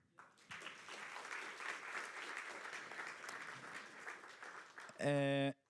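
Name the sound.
audience applause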